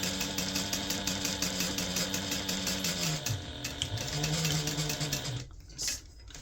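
A sewing machine hums in a steady fast run while sewing a gift bag seam, with a brief slowdown midway before resuming, then stopping near the end with a few handling knocks.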